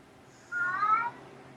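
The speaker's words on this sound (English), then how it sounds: "Is that a cat?" A cat gives a single clear meow lasting about half a second, moderately loud against a quiet background hum.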